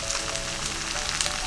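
A Korean chijimi pancake frying in sesame and salad oil over medium heat, with a dense, steady crackling sizzle close up and no talking.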